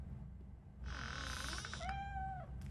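A cat meows in the video game Robocop: Rogue City, one drawn-out, fairly close meow with a rising then level tail, over a steady low ambient hum.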